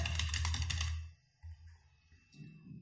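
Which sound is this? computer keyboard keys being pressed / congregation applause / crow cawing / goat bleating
computer keyboard keys being pressed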